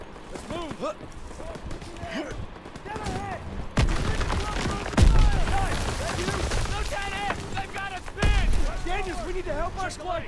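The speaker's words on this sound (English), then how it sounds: "Gunfire! It must be near our guys." Gunfire in a forest battle in Call of Duty: WWII, with a few sharp, loud shots or bursts standing out at irregular moments over a steady background of combat noise and voices.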